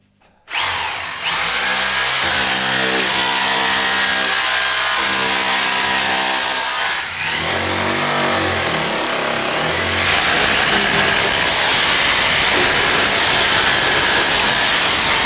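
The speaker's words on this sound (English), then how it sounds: "Drilling, hammer drilling and chiseling." A Ryobi 3-mode SDS hammer drill runs loud and close, drilling, hammer drilling and chiseling in one continuous stretch, with a steady high whine, a rapid pounding hammer action and a brief dip in pace partway through.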